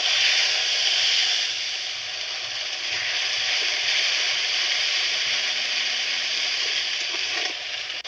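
Ground onion, green chili, tomato and ginger paste sizzling in hot oil in a pan, a loud, dense, continuous hiss and crackle close up that eases slightly after the first second and holds steady.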